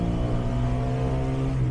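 A Trabant fitted with a modern Trabant engine drives along, its engine giving a steady, close droning hum with a buzzy tone and no talk.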